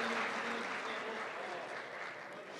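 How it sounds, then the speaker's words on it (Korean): An audience at the opening ceremony of ReWorld Forum 2023 claps. The applause is soft and distant, a steady wash of many hands that fades slightly toward the end. "여러분들 박수 한번 주시겠습니까?"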